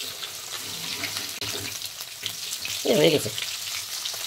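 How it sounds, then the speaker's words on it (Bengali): Snakehead fish frying in a pan gives a steady sizzle and crackle that swells louder near the end, with a brief spoken remark over it. "এখানে শোল মাছ ভাজা বসিয়ে দিয়েছি, প্রায় হয়ে গেল"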